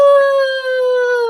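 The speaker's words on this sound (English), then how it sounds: "The dogs were howling as I was singing." Dogs howl in one long, loud, sustained tone that drifts slowly and stays close, alone with no talk.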